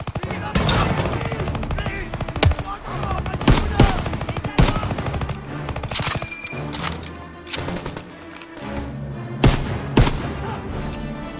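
Sniper and rifle gunfire rattles through a World War II battle in the video game Call of Duty WWII, with sharp repeated shots and bursts over a dense, loud soundtrack of combat noise and shouting voices.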